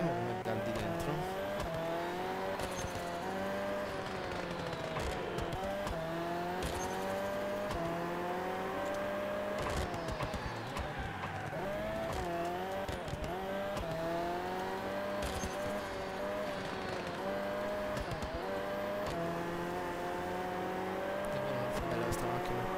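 A Mini Cooper rally car in the WRC 2 game, its engine revving and droning continuously with repeated gear shifts and pitch swings, plus occasional tire scrabble. Someone talks over it throughout.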